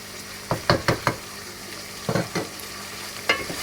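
Medium tomatoes tipped into chicken frying in a pan, with several wet thuds and stirring scrapes over a steady sizzle, close and moderately loud, no talking.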